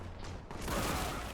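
Power-up bolt rounds fire in the Warhammer 40K: Boltgun shooter, building into a dense, loud, continuous barrage of blasts with a booming low end, with no speech over it.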